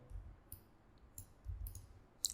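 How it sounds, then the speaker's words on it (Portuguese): A computer mouse clicks repeatedly during Photoshop editing, with several crisp, close, fairly quiet clicks in quick pairs and singles across a couple of seconds. "vou dar 2 cliques aqui em carro"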